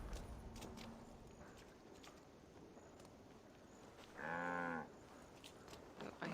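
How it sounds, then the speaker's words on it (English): A single cow lets out one clear, drawn-out moo partway through, fairly close, over faint background rustling and footsteps. "Oh, I hear a cow."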